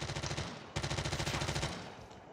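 Rapid automatic gunfire from an AK-47 in Call of Duty Mobile, two fast bursts split by a brief gap, each rattling off in quick, even shots at moderate level.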